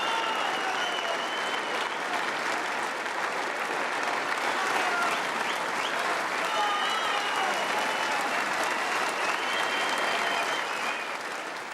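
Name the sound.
crowd applause for snooker world champion John Higgins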